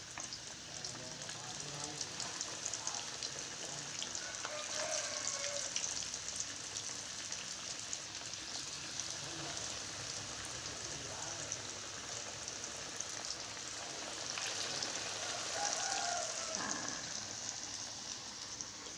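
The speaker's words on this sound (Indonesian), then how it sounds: "proses ayam gorengnya" Chicken pieces coated in flour deep-fry in hot oil for crispy fried chicken, a steady, moderately quiet sizzle and crackle holding on throughout with a few brighter pops.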